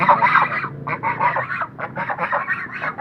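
Several geese honking in quick, overlapping bursts nearby, a raspy, repeated chorus.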